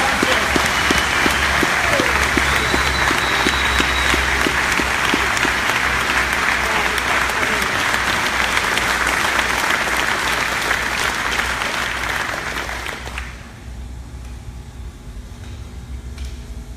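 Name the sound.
applause for every team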